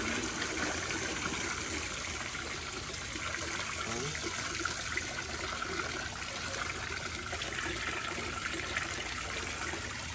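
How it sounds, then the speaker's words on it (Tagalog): Water poured steadily into a container, a continuous loud splashing gush filling the whole stretch, with voices faintly underneath. "Punuin mo na ng tubig yan."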